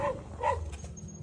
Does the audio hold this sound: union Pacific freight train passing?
no